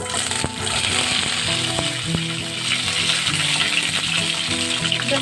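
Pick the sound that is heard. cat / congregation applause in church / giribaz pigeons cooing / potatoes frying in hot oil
potatoes frying in hot oil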